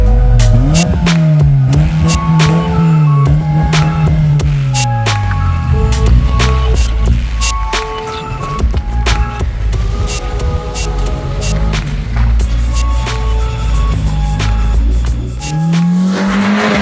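Nissan Micra K11 road rally car driven hard on the road, loud engine rising and falling through gear changes with tire squeal and rushing road noise, close and continuous from inside the car.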